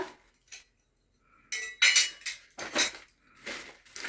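Metal kitchen utensils clink and clatter in a few bright, sharp bursts, separated by short quiet gaps, fairly close.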